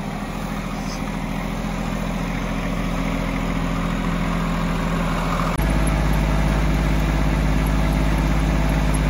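Engine-powered auger running steadily while digging into hard ground at a horse property, a continuous mid-low engine drone that steps up in load about halfway through, with no talk.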